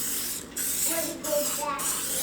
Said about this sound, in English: We're going to spray our dish